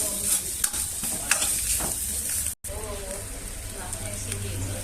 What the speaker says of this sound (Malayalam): നന്നായിട്ട് ബീഫും പൊറോട്ടയും കൂടെ ഇളക്കി യോജിപ്പിച്ച്